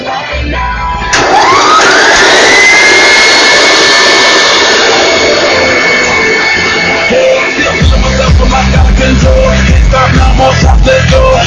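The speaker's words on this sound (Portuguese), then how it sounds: "Vamos colocar o açúcar e vamos bater isso aqui." An electric kitchen mixer beats eggs and sugar, starting up with a loud whine that rises in pitch and settles into a steady, close, continuous roar, then shifts to a rougher, churning tone as the batter thickens.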